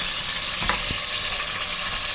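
Chicken stirred in a pressure cooker over heat gives a loud, continuous sizzle, with a couple of short thuds from the spoon early on.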